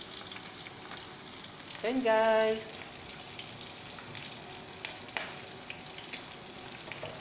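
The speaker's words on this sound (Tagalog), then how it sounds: "habang nagpiprito ako ng daing" Dried fish (daing) frying in a pan, a steady crackling sizzle throughout with a brief spoken phrase over it near the start.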